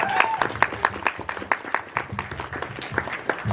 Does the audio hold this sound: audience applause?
yes